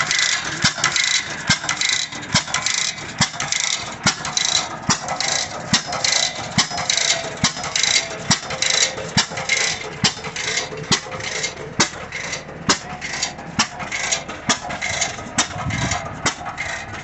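A small engine runs steadily with a rapid, rattling mechanical ticking, dense and fairly close, holding an even tempo with sharp periodic clicks throughout and no talk over it.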